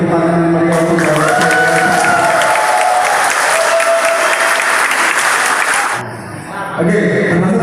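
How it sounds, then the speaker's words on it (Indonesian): Loud, sustained applause from an audience greeting a newly chosen parliament chairman at a youth organization election, filling most of the moment before fading under voices. "Silakan beri tepuk tangan yang meriah untuk Bapak."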